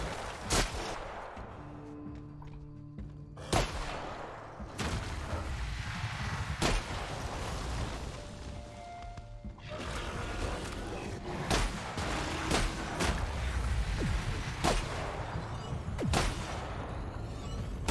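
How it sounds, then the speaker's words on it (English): Shotgun blasts in The Outer Worlds video game: about a dozen sharp, loud booming shots fired at irregular intervals, with game noise filling the gaps. "let's switch to the shotgun, see if this works"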